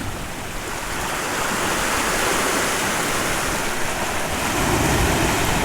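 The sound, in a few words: shore waves rushing in over rocks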